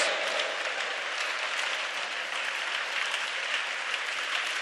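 Church congregation applauding during a sermon, a continuous, even wash of many hands clapping at a moderate distance, steady throughout with no voices on top.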